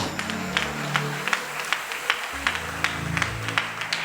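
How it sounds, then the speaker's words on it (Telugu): A church congregation claps loudly at a pastor's anniversary celebration, giving steady rhythmic claps about twice a second over sustained low musical tones. "గట్టిగా చప్పట్లు కొట్టి యేసయ్యకి మహిమ చెల్లిద్దాం"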